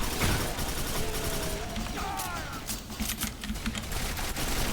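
Assault rifle fire in the shooter game Quake 4 comes as loud, rapid bursts of shots packed closely together, layered over a busy wash of game noise.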